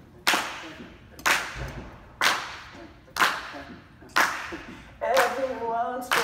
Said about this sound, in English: Y'all feel like clapping?